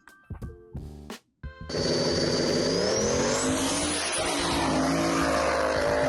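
A 1978 Buick Regal with a twin-turbo LS engine roars past in a loud, sustained full-throttle run after a few short revs, its engine pitch climbing steadily, with no talking.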